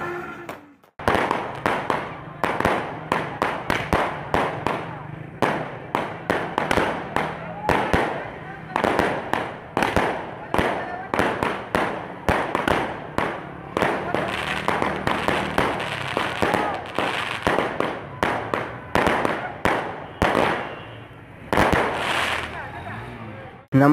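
Celebration fireworks and firecrackers in Nowshera, Khyber Pakhtunkhwa, crackling in rapid, irregular bursts of sharp pops and bangs for the whole stretch, loud and close, with voices of a crowd faintly underneath.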